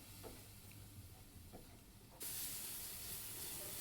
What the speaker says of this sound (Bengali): এরপরে অল্প একটু পানি দিয়ে আবারও বেশ ভালো করে